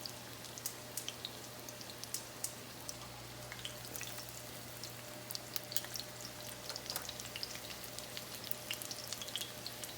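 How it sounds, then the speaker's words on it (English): Breaded chicken cutlets for chicken parmigiana frying in a pan, a steady, even oil sizzle with dense crackling pops throughout, fairly soft and close, with a low hum underneath and no talking. "If you get it cooking like this is about what you want."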